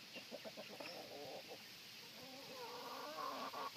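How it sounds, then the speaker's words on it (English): Chickens cluck in a chicken barn, with several birds giving short, repeated clucks in a steady, busy chatter. Faint people's voices sit low in the background. "he's got just an incredible range of chickens here"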